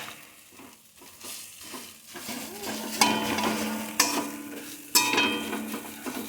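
Mashed boiled potato being mixed with chilli and turmeric powders and a little water in a pan on low heat: a spoon scrapes and thumps against the pan under a soft sizzle, with several sharp knocks about a second apart.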